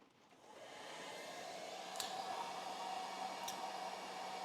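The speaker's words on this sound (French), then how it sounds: "Donc là, je vais allumer du coup mon sèche-cheveux." A hair dryer runs off a Fossibot 2400W portable power station, a steady airy whoosh that starts up and holds at a moderate level, with two brief clicks partway through and no talking.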